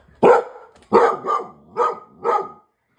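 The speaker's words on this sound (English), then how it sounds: "Where's the barking coming from? There's a dog somewhere." A dog barks five times in a fairly even rhythm, loud and close, with short silences between the barks and no talk.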